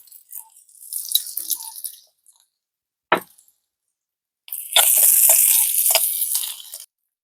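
Sliced onions and curry leaves fry in oil for a street-cart karam sundal, making bursts of crackling sizzle broken by silent gaps. The longest and loudest stretch of frying comes near the end, close up and with no voices.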